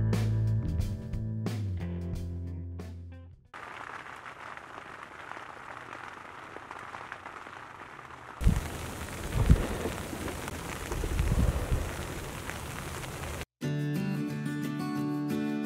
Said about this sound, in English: The relaxing sound of rain on the tent kept us asleep until around 8 o'clock.